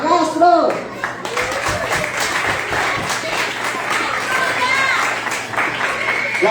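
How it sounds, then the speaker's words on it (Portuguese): Audience applause fills a live recorded stage event in a steady, dense wash of claps, with crowd voices and talk mixed in throughout. "Dá um aplauso, Júlia Castro!"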